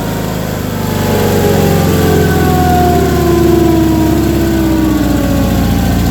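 Engine of an Ingersoll 4120 garden tractor driving a hydraulic chipper/shredder, running steadily and loud with a close drone whose pitch glides downward as it slows, continuous through the whole stretch.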